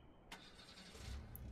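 A car engine starts in the video game Art of Murder - The Secret Files. A sharp ignition click comes first, then a low rumble that swells and settles into a steady idle, with no voices.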